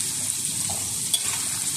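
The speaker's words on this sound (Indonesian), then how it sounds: "Bang Toha masih menggoreng sambal" Sambal chili paste frying in a pan gives a faint, steady sizzle with soft crackles and a brief stir or clink partway through, quiet and alone.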